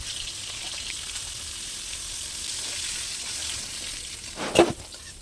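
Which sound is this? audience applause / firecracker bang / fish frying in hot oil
fish frying in hot oil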